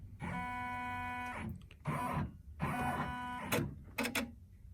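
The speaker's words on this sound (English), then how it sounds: "I'm going to press my trace outline button, and I'm going to watch my needle" A multi-needle embroidery machine traces the outline of a design on a hooptech clamp hoop, giving repeated whirring motor moves with tonal hums. Sharp clicks separate the moves, close and mid-loud with no talk.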